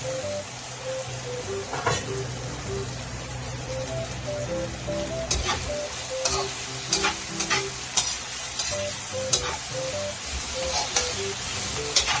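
Cooked meat sizzles in a pan with onion and garlic while it is stirred, giving a constant frying hiss broken by scraping clicks, and a faint tonal beeping pattern sits in the background.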